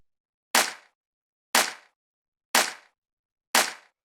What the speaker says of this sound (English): After that, we have the clap, which sounds like this.